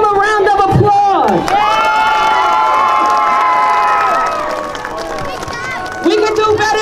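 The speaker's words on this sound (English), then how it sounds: "Let's give them a round of applause." A crowd at an outdoor autism awareness flag-raising ceremony cheers and whoops loudly, with shouting children and some clapping in a sustained roar that fades slightly before swelling again near the end.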